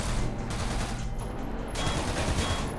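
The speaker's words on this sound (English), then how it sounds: "There's another guy shooting at me somewhere." Rapid bursts of video game gunfire ring out in a first-person shooter, loud automatic volleys that briefly drop back at the midpoint and then resume with full force.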